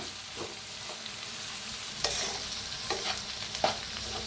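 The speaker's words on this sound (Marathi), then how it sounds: "आता टाकूया भात, मिक्स करूया भाताला मी।" Cooked, salted rice is stirred and mixed in a pan, soft frying hiss underneath with a few scattered scrapes and clinks of the spoon against the pan.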